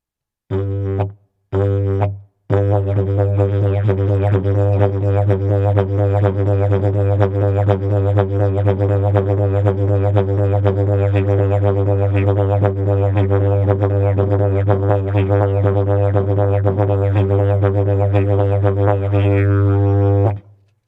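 A droning yidaki (didgeridoo) plays steadily and loudly for about twenty seconds after two short opening bursts, its deep buzzing tone shifting in overtones, played with circular breathing.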